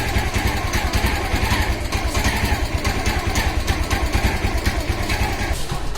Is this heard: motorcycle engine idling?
yes